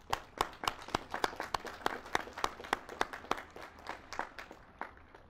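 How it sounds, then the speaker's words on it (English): Sparse, scattered clapping at a community college graduation ceremony, individual claps distinct and rhythmic, fairly faint and distant, tapering off toward the end with no talk over it. "Let us give them a round of applause for their dedication to you"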